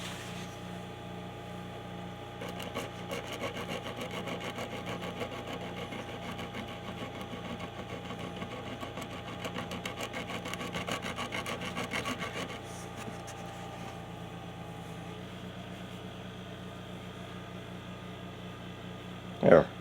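Hand sanding a poorly cut wooden bevel, a steady soft rubbing rasp that runs continuously at moderate level, with a faint hum underneath and a brief louder knock at the very end.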